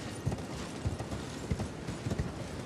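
Horse hooves in the video game Elden Ring clip-clop in a quick, even rhythm at moderate volume, with no talking.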